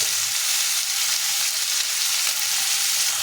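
Green chilli, tomato, salt and turmeric frying in oil in a pan for amodi fish curry, giving a loud, steady, close sizzle with faint stirring and no talk.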